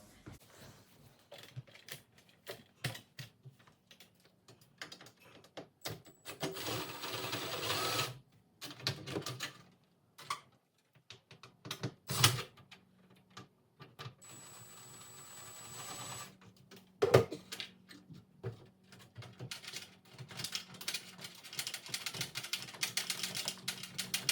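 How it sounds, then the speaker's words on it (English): An impact driver unscrews the mounting screws of a fluorescent tube troffer light fixture in a ceiling, with repeated bursts of whirring and hammering separated by pauses, plus intermittent handling clatter. "just going to grab my impact driver here, and then I'm going to unscrew it"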